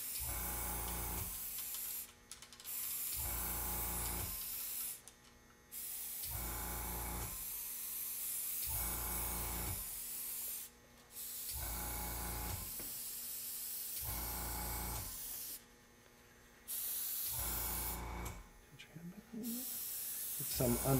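An airbrush sprays makeup color onto a witch prosthetic appliance in repeated hissing bursts of a couple of seconds each, broken by short pauses, with a voice talking between passes.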